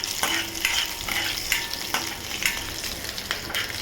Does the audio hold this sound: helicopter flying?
no